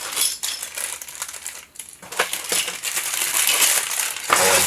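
Plastic bags crinkle and crunch loudly up close while being unpacked during assembly of a Playmobil Star Trek U.S.S. Enterprise NCC-1701 set, in continuous rustling with brief pauses.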